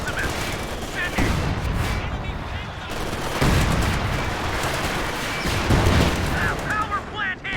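A tank's main gun fires in the Company of Heroes 2 battle game, with repeated sharp booming blasts and ongoing gunfire through a dense, loud wartime din, while voices shout orders over the combat.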